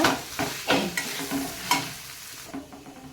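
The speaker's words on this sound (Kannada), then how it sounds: "ಈಗ ಇದಕ್ಕೆ ಒಂದು ರೀತಿ ನಾವು ಇದನ್ನು ಮಿಕ್ಸ್ ಮಾಡ್ಕೊಂಡ್ಬಿಡ್ತೇನೆ ಎಲ್ಲವನ್ನು ನೋಡಿ ಈ ಥರ" Mashed potato stuffing for stuffed capsicum bajji is mixed and stirred in a bowl, giving close, irregular scraping and squelching strokes with no talk.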